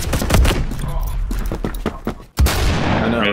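Rapid pistol shots in Roblox Phantom Forces fired in quick bursts like a submachine gun, close and sharp, with a brief silence near the end before more firing and some talk over it.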